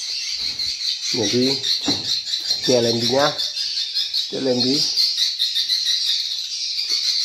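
Swiftlet lure call playing inside a swiftlet house: a steady high chirping buzz runs throughout, with someone talking over it in short bursts.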